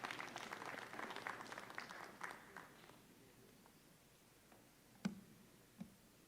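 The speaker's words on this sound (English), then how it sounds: "Let's encourage her with a round of applause." Applause from a conference audience at a national wage bill conference, a soft burst of many hands clapping for about three seconds that fades out, followed by a few isolated faint taps in a quiet room.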